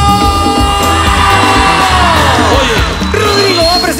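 A crowd at a Plaza Norte street comedy show yells and whoops on cue, a loud, sustained roar of many voices close by with a rising shout near the end.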